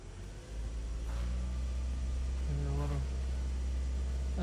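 A 2014 Ford Fusion that runs poorly hums and rises in pitch as its engine accelerates, a steady low drone building over a few seconds, with faint talk.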